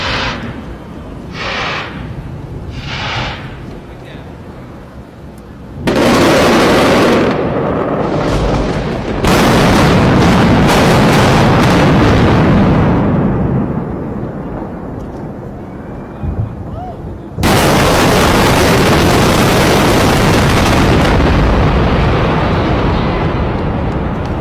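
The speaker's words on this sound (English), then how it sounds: "Massive casino in Las Vegas gets blown up with fireworks." Loud, booming blasts of fireworks go off over a Las Vegas casino in heavy bursts, crackling and thundering close by, with crowd noise beneath and no clear talk.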